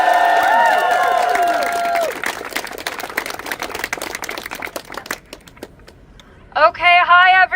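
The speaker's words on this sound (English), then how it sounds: "Can I get a big round of applause?" Crowd applause at a Brown University student encampment in support of Palestine: dense clapping, with a few voices mixed in, swells then thins out over several seconds before a single speaker starts talking.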